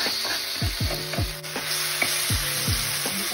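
Ground spice paste sputters in hot oil, a close, dense sizzle broken by repeated scraping strokes of a spoon stirring the pan.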